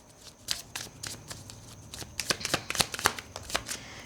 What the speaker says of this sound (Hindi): एक और कार्ड देख लेते हैं